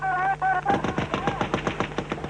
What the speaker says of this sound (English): A loudspeaker and gunfire from the Turkish side warns them to stay where they are